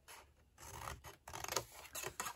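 Cardstock is trimmed along a score line for a slider matchbox, heard as short close rasping cuts in several quick bursts with brief pauses between.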